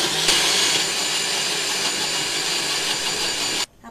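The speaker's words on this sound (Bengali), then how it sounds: "এবার আমি আবার এটাকে খুব ভালো করে যাতে চালের গুঁড়িটা একদম মিলে যায়, কোনো দানা দানা না থাকে, সেইভাবে আমি ব্লেন্ড করছি আবার" A blender whirs steadily and loudly, blending ground rice flour with water into a smooth batter for homemade jalebi, with a constant motor drone that cuts off abruptly near the end.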